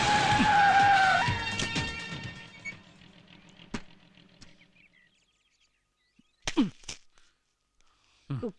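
Car tires skid and squeal loudly in a vehicle chase while overtaking a scooter, a sustained screech fading out, then a couple of short sharp squeals near the end.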